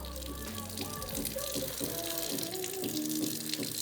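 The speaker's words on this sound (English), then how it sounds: "I've gotten my fish out. I'm about to wash and pat dry it" Water running from a kitchen tap while raw fish is washed, a steady splashing flow with clinks of handling, close by.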